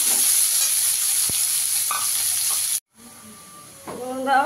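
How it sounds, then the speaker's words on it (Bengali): Chopped onion sizzling in hot oil with cumin tempering for chicken Dak bungalow, a steady loud frying hiss with occasional stirring clinks, cutting out briefly before softer sizzling and faint background talk resume. "এখানে আমি পেঁয়াজ কুচিটা দিয়ে দেবো। পেঁয়াজটাকে একটু লাল করে ভেজে নেবো।"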